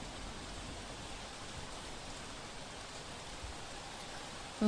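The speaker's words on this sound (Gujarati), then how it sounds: "મોઢવાડા, કીદરખેડા ગામમાં વરસાદ થઈ રહ્યો છે" Heavy rain pours over Modhwada village in the Barda area of Porbandar, Gujarat, a steady, fairly faint broadband hiss of falling water that holds unbroken throughout, with no voices.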